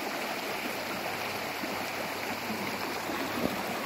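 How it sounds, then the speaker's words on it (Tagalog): A small farm stream flows with a steady, soft, continuous rush and trickle, close by and alone with no talk. "ito yung sapa ko lang na kinukuhanan ko ng tubig"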